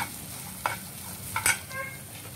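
Chopped capsicum sizzles in a pan for poha idli, a steady close frying hiss punctuated by a few sharp scrapes and clinks of stirring.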